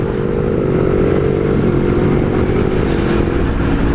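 A 2018 Yamaha MT-03 motorcycle accelerates on a test ride, its engine note strong and close with a steady, harmonically rich drone that climbs under load. No one speaks.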